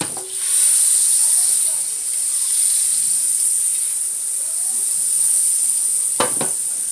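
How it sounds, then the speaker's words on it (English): Slices of bread for a homemade pastrami on rye go into melted butter in a hot pan, giving a steady close hiss of sizzling that holds throughout, with a brief clatter near the end. "We are going to add our bread into our melted butter like so."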